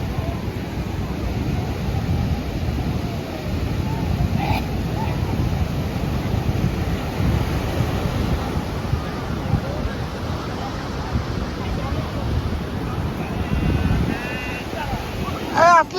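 Sea surf on the shore at Puri, a continuous broad wash of breaking waves mixed with wind buffeting the microphone, steady and fairly loud, with a brief voice near the end.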